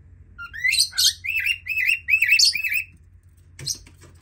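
Pet lovebirds and cockatiels chirp close by in a run of bright, rapid tweets and short calls for about two and a half seconds, then a pause and one more sharp chirp, with no talking.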